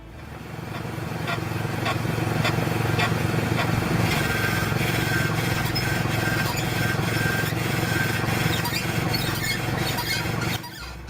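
Squeaking and grinding from a car suspension ball joint running dry without lubrication, a steady dense rasp with high squeals over a low rumble, continuous and fairly loud for about ten seconds before stopping abruptly.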